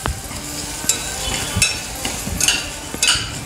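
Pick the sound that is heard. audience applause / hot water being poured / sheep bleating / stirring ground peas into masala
stirring ground peas into masala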